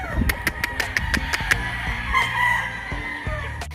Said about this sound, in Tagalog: Boss Ramonito Tindok, ito yung Mel Sims McLean Hatch mo na class AB.